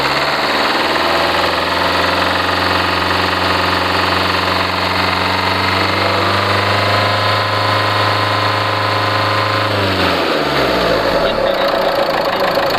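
A Renault Duster's engine idles close by with a steady, even hum for about ten seconds, then the tone shifts and winds down near the end; no one speaks.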